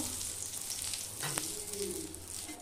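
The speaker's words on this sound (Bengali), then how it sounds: "শুকনো লঙ্কা ভেজে নেব" Dry chillies frying in a little hot oil for potato curry (alur dum) in a home kitchen, a steady soft sizzle and crackle that carries on throughout, with a brief stir or clatter near the middle.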